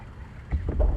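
In the video game INSIDE, a small submarine's engine kicks in underwater, a deep muffled rumble that swells abruptly halfway through the brief moment and keeps churning.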